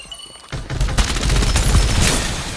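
An MG7 machine gun fires in Farlight 84 in a long, dense, loud burst of rapid shots, close and continuous after a brief quieter lead-in.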